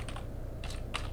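Router commands being typed on a computer keyboard: a few short bursts of quick key taps separated by pauses, close and fairly quiet, with no voices.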